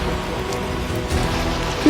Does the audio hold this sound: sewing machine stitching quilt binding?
no